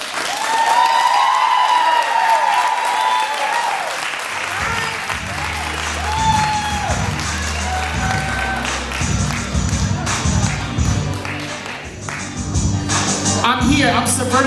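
Audience applauding at a slam poetry show, a dense wash of clapping that is loud and sustained throughout, with low musical tones entering partway through beneath the crowd noise.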